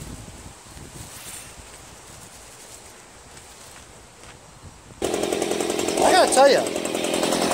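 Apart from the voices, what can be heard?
gas leaf blower running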